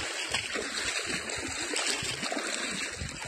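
River water flowing and gurgling around someone wading through it, a continuous close rush with small splashes and no talk.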